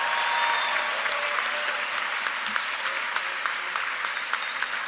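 A graduation ceremony audience applauds steadily in a large hall, a dense, sustained wash of clapping with occasional whistles and a shrill noisemaker tone sweeping through, heard from a distance throughout.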